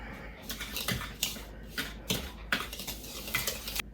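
Sugar whisked in a bowl for a caramel apple toffee cake: a steady run of scraping, clinking strokes with a loose repeating rhythm, close and moderately loud.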